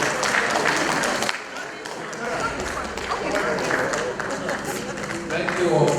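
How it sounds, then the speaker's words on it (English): Crowd at a university campus welcome address claps for honoured people, lively applause mixed with voices and crowd noise. "say a very big thank you by clapping your hands for these people"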